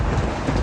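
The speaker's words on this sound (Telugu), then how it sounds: "అయ్యో, వర్షం తడిచిపోతారండి." Rain falls as a dense, steady rumbling wash with strong low-end noise, continuous and close throughout the short stretch.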